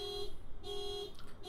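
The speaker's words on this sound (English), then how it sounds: "Someone's car alarm's going off because that's always helpful." A car alarm going off outside, faint and distant, sounding a repeating steady electronic tone in regular pulses with short gaps between them.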